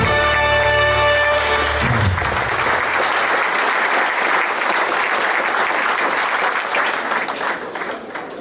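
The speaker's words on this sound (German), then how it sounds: "Auch ein Applaus vielleicht für die Frau." Audience at a Schützenfest coronation in Straberg breaks into sustained, dense applause that carries on steadily for several seconds before beginning to fade, following a spoken remark at the start.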